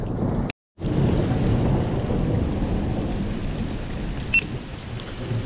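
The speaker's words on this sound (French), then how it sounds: "je suis sous un orage" A loud thunderstorm during an outdoor catfishing trip: heavy rain roars steadily with deep rumbling thunder. The sound cuts out briefly near the start, then continues unbroken with no talk.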